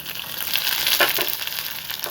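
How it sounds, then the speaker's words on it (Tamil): Mustard seeds and vadagam crackle in hot oil as a tempering for a spinach and moong dal kadayal, a loud, dense spitting hiss that holds steady for a couple of seconds without talk. "தாளிப்பு கட்டி வச்சு வடகம் போட்டு கடுகும் போட்டாச்சு"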